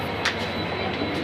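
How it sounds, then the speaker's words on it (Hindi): A train at Gurgaon (Gurugram) railway station rumbles past close by, a dense continuous roar of wheels and carriages filling the whole brief moment, with a faint squeal on top. "देख लो भाई ये इस तरह का गुड़गांव का स्टेशन, गुरुग्राम"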